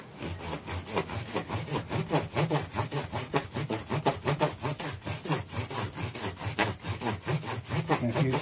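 A Jackson Adrian Smith guitar finish being rubbed with 6000 grit abrasive, heard as rapid, even back-and-forth strokes of close, loud rasping that repeat steadily about twice a second, with no talking.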